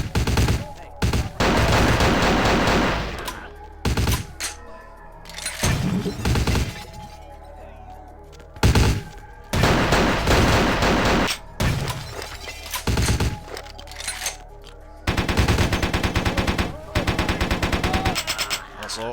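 Rapid bursts of gunfire from a gun-heavy combat sequence in the vampire action role-playing game Vampire: The Masquerade – Bloodlines, loud and repeated with short pauses between volleys, mixed with crashing and shattering impacts.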